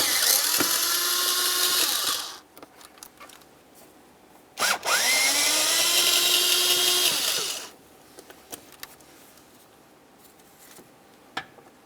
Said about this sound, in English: Next, we're going to remove our two T20 Torx screws.